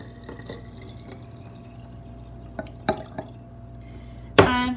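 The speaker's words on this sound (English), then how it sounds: "I'm going to pour in the water." Water poured into a glass jar, heard as a few soft drips and small splashes followed by one brief, louder close-up pour near the end, in an otherwise quiet setting.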